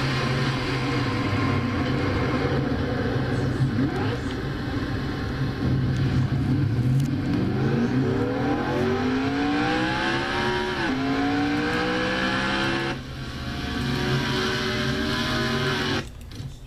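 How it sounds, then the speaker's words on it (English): Race car in a racing video game restarting and revving, a continuous engine drone with repeated rising rev sweeps, loud and steady, the engine note climbing and falling over the crowd-like background roar. "getting her car to start right back up again, so so we're getting set for a restart"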